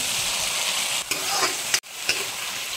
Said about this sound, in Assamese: ইফালে দালিখিনি অকণমান ভাজি লৈছোঁ